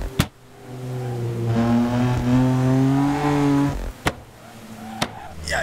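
A BMW M4 convertible with a loud tune and 600hp engine revs hard in a racing game, a rising harmonic engine whine held for several seconds before cutting off, with sharp pops and cracks at the start and end.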